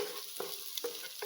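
Egg being scrambled in a pan for chicken fried rice, a soft steady sizzle broken by three short scraping stirs of the spatula, close and fairly quiet, with no voices.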